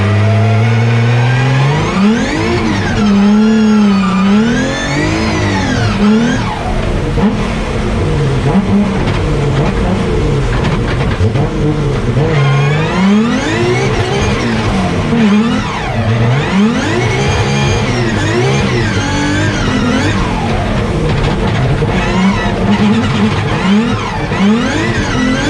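The Trust R35 Nissan GT-R, a former D1 Grand Prix championship drift car, laps a wet track with its engine revving up and down continuously, loud and close, the pitch sweeping repeatedly through throttle blips and shifts.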